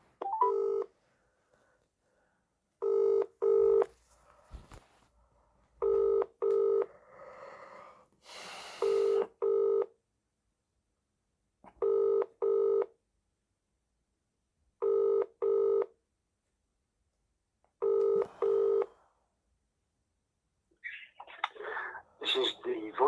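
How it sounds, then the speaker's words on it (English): Telephone dialing and ringing: paired ring tones repeat at regular intervals, loud and clear against near silence, with brief keypad beeps at the start and some muffled noise and rustling near the end. "Ring up Graeme Kenna."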